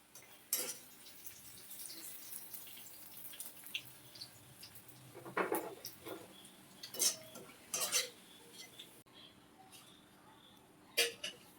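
Fried cauliflower pakoda is scooped out of hot oil with a metal ladle, giving faint bubbling and scattered sharp clinks and scrapes against the pan over a quiet background.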